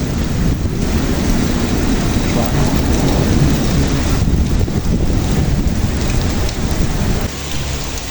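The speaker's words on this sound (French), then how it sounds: "Petit tonnerre." Heavy rain pours down with thunder rumbling through it, a loud, dense and continuous storm roar that dips slightly near the end, with no voices.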